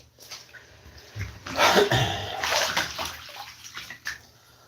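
Hot water runs and splashes into a bathtub in a steady rushing flow with some sloshing, heard up close and alone.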